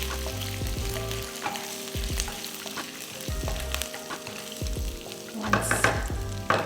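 A tablespoon of finely chopped, crushed aromatics sizzles in hot oil for a vegan Hyderabadi jackfruit curry. The close, steady frying hiss is broken by stirring scrapes, with no voices.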